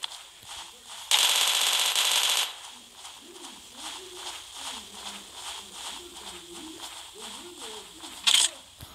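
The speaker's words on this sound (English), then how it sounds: "Oh, machine gun." Minigun fire in the Zombs Royale video game, a loud sustained burst of rapid shots lasting about a second and a half, then a short second burst near the end, over quieter game sounds and talk.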